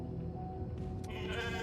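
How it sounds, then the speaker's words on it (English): A sheep in a video game gives a single close, clear bleat that wavers for about a second, heard alone with no talking. "Hi there, little sheep."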